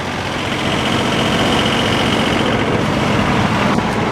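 A sawmill power engine with the PTO engaged runs steadily at about 1,500 rpm, a loud continuous heavy drone with a knocking rumble and no talk.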